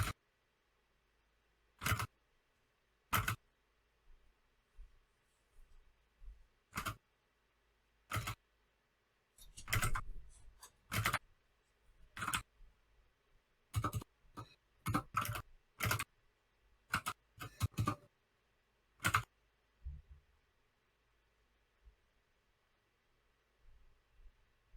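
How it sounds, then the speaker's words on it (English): Typewriters clack in scattered, irregular bursts of sharp single and clustered strikes, separated by near-silent gaps and heard close and crisp, with no talking. "I feel like I'm sitting in a World War II propaganda office, just listening to the typewriters go."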